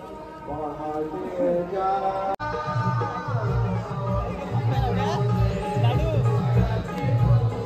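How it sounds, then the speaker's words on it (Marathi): A busy village fair crowd mixes babble, chatter and shifting voices with music-like tones and clatter, steady and fairly close, while a person talks over it. "गर्दी पाहू शकता मित्रांनो."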